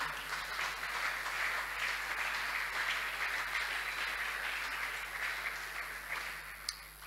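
A church congregation at a morning worship service claps and applauds steadily, a dense sustained wash of clapping that tapers slightly toward the end, with no voices over it.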